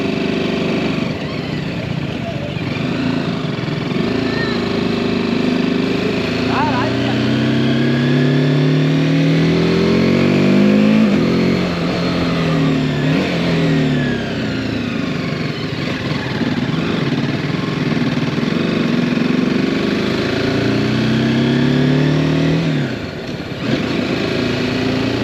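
Motorcycle engine drones close and loud without a break while riding misty hairpin bends in the Kolli Hills. The pitch rises and falls as the rider works the throttle through the turns.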